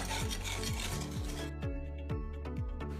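Salt, coconut flour and baking soda are stirred together in a bowl, a dry scraping rasp repeating in quick, regular strokes close by.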